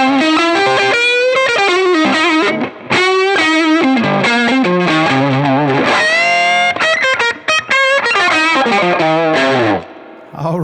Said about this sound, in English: Let's engage the fat boost.